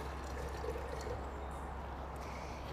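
Water pours steadily into a farm sprayer tank, filling it halfway, a continuous close rushing and trickling sound with no talking.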